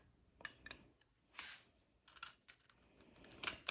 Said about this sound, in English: So I'm just going to trim that with some tin snips.